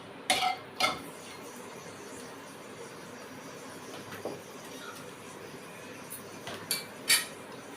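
A metal spatula stirs bay leaves in a cooking pan for basanti pulao, giving a few faint, scattered clinks and scrapes against a low background hiss.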